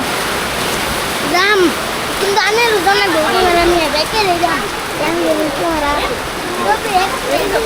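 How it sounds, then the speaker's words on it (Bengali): Heavy rain pours down in a steady, dense roar that lasts throughout, while a child and an adult talk over it. "বৃষ্টি তো তামাম জোরে বলছি"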